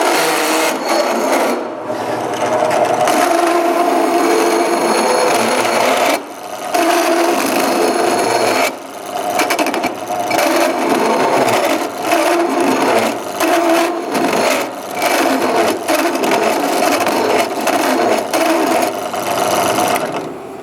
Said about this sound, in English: Every part and every piece has now been deburred.